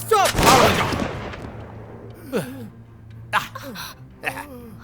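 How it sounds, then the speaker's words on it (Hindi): A single loud, close gunshot cracks out in a Hollywood action movie dubbed into Hindi, followed by a decaying echo, then scattered short voice sounds and gasps. "फालतू में मुझे गोली चलानी पड़ी"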